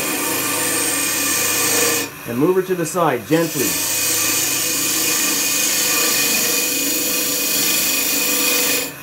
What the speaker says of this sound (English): I'm just going to continue using my spindle gouge, and we're just going to feed the tool in like it's a drill bit.